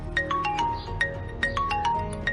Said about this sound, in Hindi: ये तो भाई का फोन है